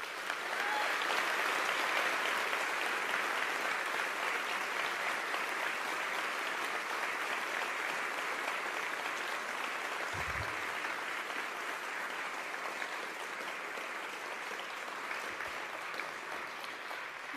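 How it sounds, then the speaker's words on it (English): Sustained applause from a large crowd at an awards ceremony fills the whole stretch, steady and moderately loud, with a couple of faint thumps partway through. "Please give them a round of applause"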